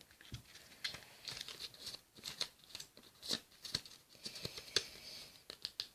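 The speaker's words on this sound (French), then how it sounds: "vous reprenez un morceau de scotch" Adhesive tape being pulled and torn off a roll while making cigarettes by hand, heard as a series of quiet, close crinkling rips and handling rustles with no talking.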